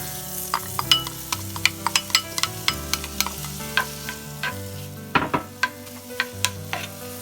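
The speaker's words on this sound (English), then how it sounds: "So I'm gonna let this saute for about 3 minutes until the onions is" Onions sauteing in melted butter in a pan, a steady soft sizzle under frequent stirring scrapes and clicks of a utensil, close and moderate in level, with a low hum running beneath.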